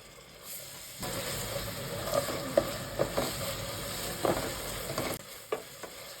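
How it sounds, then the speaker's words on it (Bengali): Chopped onions and ginger-garlic paste fry in a pan for a chicken dish. After a quiet second, a steady close sizzle sets in, broken by sharp scraping taps of a spoon stirring at irregular moments. "পেঁয়াজ কুচি দিয়ে আবার কিছুক্ষণ ভেজে দিয়ে দিব 2 চা চামচ করে আদা রসুন বাটা।"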